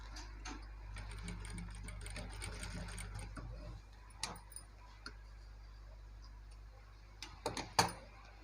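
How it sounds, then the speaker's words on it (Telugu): Sewing machine stitching a designer blouse, a steady continuous whirring run for about four seconds, then stopping, followed by scattered small clicks and handling taps. "ఇలా దీనిపైన మనం ఒక స్టిచ్ వేసేసుకోవాలి."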